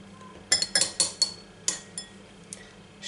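Egg white and aloe vera gel being whisked in a bowl with a utensil, giving a quick run of bright clinking taps against the bowl, several close together, then a few sparser clinks, close and fairly quiet with no talking.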